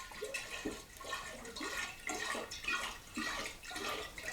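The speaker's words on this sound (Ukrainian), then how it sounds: "ми зливаємо воду, бачите?" Water gushes and splashes steadily out of an oak whisky barrel, a continuous pouring drain with gurgling pulses, close by and without speech.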